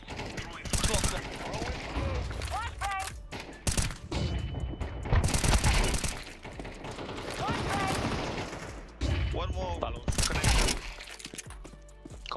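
Rapid gunfire from Counter-Strike 2 matches crackles in bursts through the clip, mixed with game effects and sporadic voices talking over the action.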